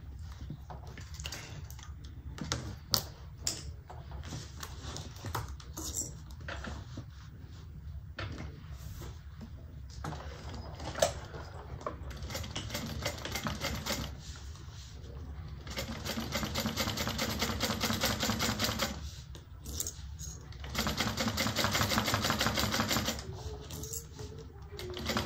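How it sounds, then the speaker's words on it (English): A sewing machine top stitches a Joseph bag in several bursts of rapid mechanical whirring, some short and some sustained, separated by brief pauses and clicks of handling the fabric. "And now we're just going to top stitch."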